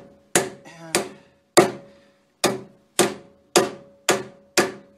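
A hammer taps a repair sleeve onto a boat trailer axle spindle, giving eight sharp metallic strikes at a steady, unhurried pace, loud and close with short ringing decay and no voices.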